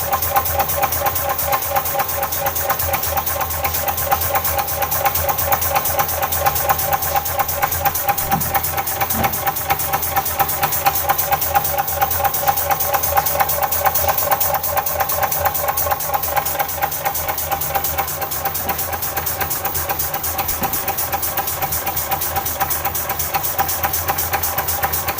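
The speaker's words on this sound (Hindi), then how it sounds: "ये देखते हैं कितनी देर तक चल सकता है हमारा इंजन" A homemade steam engine built from a sewing machine runs steadily, a fast even chuffing and mechanical knocking that holds a constant rhythm and loudness throughout, with no talking.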